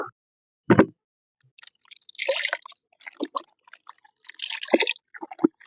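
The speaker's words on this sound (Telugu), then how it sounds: "కొంచెం వాటర్ పెట్టండి దీంట్లో" Water poured into a homemade turmeric spray mixture for brinjal and okra plants, heard as a few short liquid splashes and drips, close and moderately loud, with pauses between.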